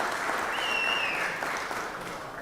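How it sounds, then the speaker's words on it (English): A Senate chamber during a legislative session fills with a sustained round of applause from many hands, dense and even, fading slightly toward the end. "Let's give Miss Strickland a round of applause"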